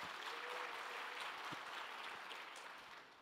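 Applause from a church congregation at a joint year-end gathering, a soft, distant wash of many hands clapping steadily that fades slightly toward the end.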